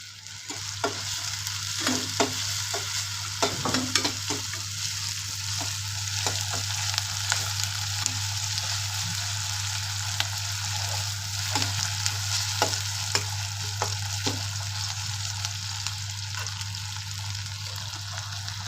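Curry leaves fry in hot oil in a pan while preparing a quick eggplant dish, giving a steady close sizzle broken by scraping stirs and spatter bursts, with a constant low hum underneath.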